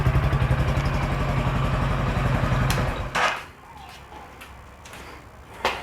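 A 250cc MB Motos SF501 motorcycle engine runs with a steady, rhythmic idle thump for about three seconds, then cuts to quieter background with a couple of sharp clicks.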